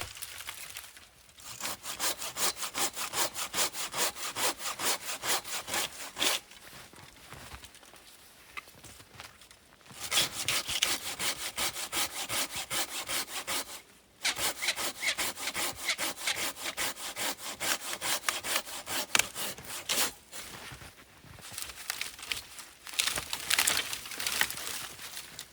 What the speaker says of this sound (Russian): А пока пилишь дрова